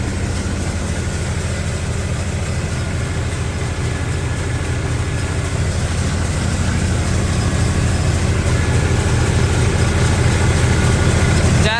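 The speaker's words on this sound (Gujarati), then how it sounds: "ટ્રેક્ટરનું એન્જિન ચાલુ થાય" A tractor engine runs steadily while powering a Param basket-model thresher in a soybean harvest, a dense continuous low rumble and mechanical drone that stays close and loud throughout, with no talk.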